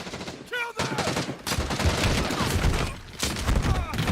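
A dense burst of rapid gunfire and explosions from a Rainbow Six Siege trailer rattles loud and close, with a short whistling swoosh near the start and continuous volleys throughout.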